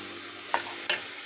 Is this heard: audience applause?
no